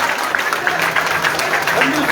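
Loud, continuous clapping from a congregation at a Kannada church service, an even crackling roar of many hands with faint voices mixed in.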